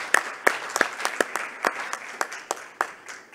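Applause at a hackathon closing ceremony: a small group claps in sparse, uneven, individually distinct claps, close and moderately loud, for a few seconds.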